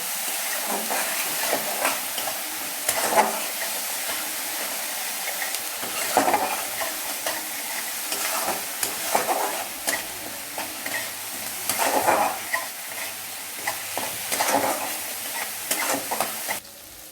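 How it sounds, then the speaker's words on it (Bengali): Turmeric and cumin powder sauté in a pan for a chickpea curry with papaya and potato, a continuous close sizzle with repeated stirring and scraping strokes throughout. "এবার এটাকে একটু কষতে হবে"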